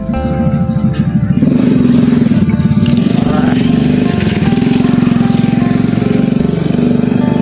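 A motorcycle engine idles loudly and close, with a steady rough chugging throb and a slight rise in revs midway, in a rural village in Sepon, Savannakhet, Laos.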